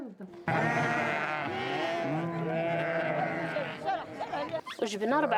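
Sheep on a village farm in India bleating in several wavering, overlapping calls, loud and close, with a busy flock-like murmur throughout and a few sharper cries near the end.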